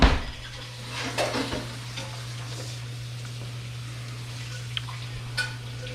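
Lasagna sheets cook in a pot of boiling water, with a low steady bubbling hum and a few clinks of utensils against the pot, close and fairly quiet, with no talking.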